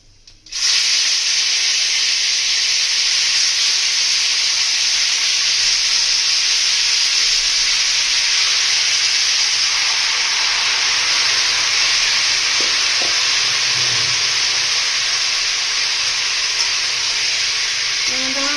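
Tomatoes sizzle in hot oil in a pan for tomato chutney, a loud, steady hiss of frying that runs unbroken through the whole stretch with no talk.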